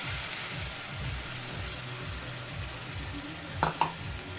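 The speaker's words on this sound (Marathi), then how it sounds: "आता ही आपण टमाटरची प्युरी याच्यामध्ये टाकूया" Tomato puree hits a pan of frying onion masala with ginger-garlic paste for a sweetcorn curry, giving a steady close sizzle with soft stirring and two quick metal clinks near the end.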